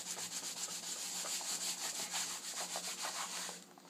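Crayon marks are scrubbed off a surface with Goof Off, giving a close, steady back-and-forth rubbing in quick, even strokes for several seconds before it stops.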